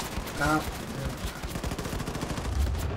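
Gunfire in the video game Wolfenstein 2, a rapid, dense rattle of shots that runs through most of the stretch, loud and close, with a voice speaking briefly over it.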